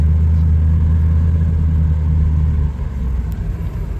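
A big Dodge truck drives with a loud, steady low engine rumble and drone close by, the tone dropping slightly partway through as it settles into cruising.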